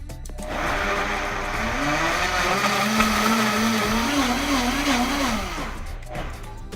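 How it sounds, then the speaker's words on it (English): Kitchen blender pureeing cantaloupe cubes with a little water, a loud steady motor whir that rises and wavers in pitch as the fruit breaks down, one continuous run of several seconds before cutting off, no talk. "I'm gonna put them into a blender, a little bit of water just to keep it going. I'm gonna give it a quick buzz."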